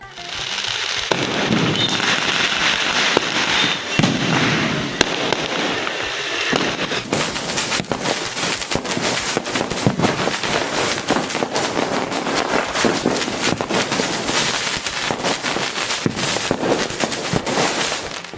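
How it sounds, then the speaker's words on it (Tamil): Diwali fireworks burst over Coimbatore at night in a dense, continuous barrage of loud crackling and popping explosions, with no voices. "அதேபோல் கோவையில் இரவை பகலாக்கும் விதமாக வானவெடிகள் சிதறி ஒளிர்ந்தன."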